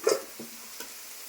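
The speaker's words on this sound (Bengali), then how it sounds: "শুকনো লঙ্কা ফোড়ন দিচ্ছি জিরা ফোড়ন দিচ্ছি" Dry red chillies and cumin seeds hit hot oil for tempering daliya khichuri, giving a brief sharp sizzle at first and then a few softer stirring scrapes and crackles, close by with no talk.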